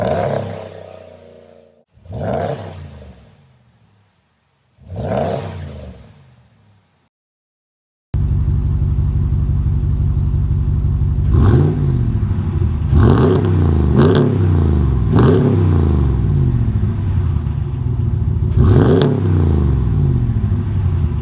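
A 2019 Ram Rebel 1500 with a Hemi V8 and its stock exhaust, before a Carven cat-back is fitted. It gives three separate deep revs from a near-silent idle, then a loud steady rumble broken by several sharp throttle blips.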